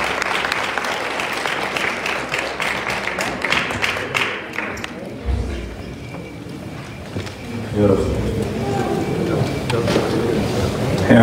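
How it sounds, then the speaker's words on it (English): Crowd applause at a Christmas Day church service fills the first few seconds, dense clapping that fades out, followed by quieter room noise and a voice speaking. "give a great round of applause"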